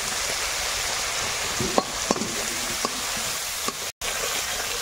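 Green chillies frying with salt and turmeric in hot oil in a wok, a steady broad sizzle with a few faint clicks of a spatula and a brief dropout near the end.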